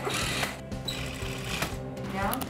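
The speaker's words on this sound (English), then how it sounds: "Those who receive the sewing bundle quickly begin to sew the PPE together." A sewing machine stitching protective PPE gowns runs in a fast mechanical whir with short bursts, heard under a person talking throughout.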